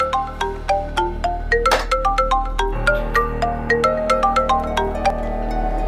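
A mobile phone plays a ringtone during a quiet meal at home: a bright, repeating electronic melody of short plucked notes that keeps going steadily, with no talk over it.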